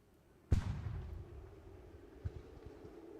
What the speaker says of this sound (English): Oh, there's our cannons. They've opened up, boys.